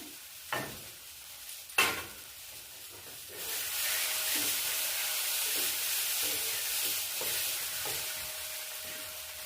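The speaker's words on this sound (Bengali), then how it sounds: "ভালো করে এটা কষে নিয়েছি মশলাটা" Ground spice paste fries in a pan for a cabbage and cauliflower curry. Two sharp knocks come first, then a loud, steady sizzle and hiss that carries on close by, with occasional scraping as the paste is stirred.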